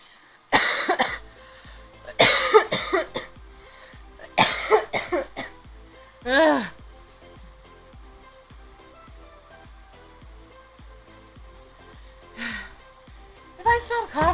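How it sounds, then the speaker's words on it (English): A man coughs in several harsh, close bursts with quiet gaps between them, along with throat clearing. "If I stop coughing."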